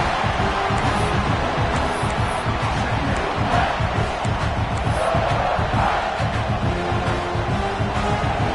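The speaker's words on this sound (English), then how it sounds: "this crowd is fired up. Listen to this noise here." A loud, dense stadium crowd at an American football game roars steadily throughout, full of overlapping cheers and shouts with no break in the din.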